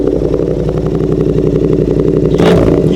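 Yamaha R7 motorcycle engine idling with a loud, rapid, throbbing exhaust pulse, then a sharp rev blipping up near the end, close and dominant with no speech.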